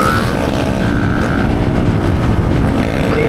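A 160 cc motorcycle engine strains on a night ride, a loud, steady drone with a gritty roar and a faint whining tone, close up with constant wind rush.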